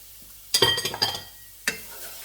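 Red and green peppers and onion hit a hot pan for Salisbury-style cubed steak, producing a sudden burst of sizzle and clattering stirring, a short pause, then another brief scrape.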